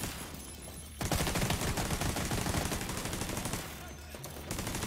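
Main battle rifle gunfire in the video game The Division 2: a rapid, loud stream of shots begins after a second and keeps going for several seconds, briefly easing before resuming.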